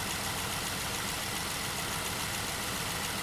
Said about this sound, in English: let's go ahead and give a listen to the first reading. This is before we added anything to the engine.